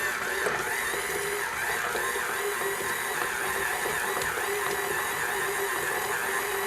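An electric stand mixer creams butter for chocolate buttercream on low speed, giving off a steady, moderate motor whir with faint mechanical rattling throughout and no voices.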